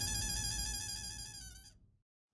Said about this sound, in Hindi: मुझे जेठालाल का फोन आ रहा है